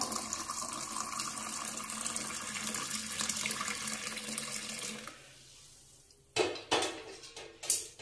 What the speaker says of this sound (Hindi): अब हम जब इसके ऊपर से जब दूध को पलटेंगे ना तो ये काफी अच्छे से जो है जावन मिक्स हो जाएगा इसमें